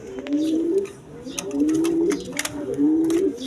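Pigeons of quality breeds coo in repeated low rolling phrases, three or four swells in quick succession, close and fairly loud against a busy background with faint chatter.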